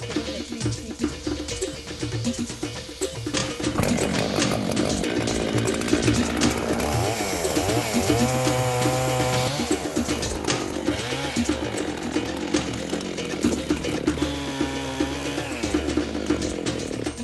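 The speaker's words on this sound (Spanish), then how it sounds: "Nosotros talamos los árboles con motosierra." Chainsaw felling trees in a timber-harvesting forest, with the engine revving up and down through repeated cuts, loud and close for the whole stretch, with faint birds in the background.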